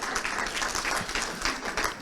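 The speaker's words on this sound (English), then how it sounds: "You can clap." Faint, steady crowd applause from an audience at a Vanderbilt University community breakfast reception, many hands clapping continuously with no voices over it.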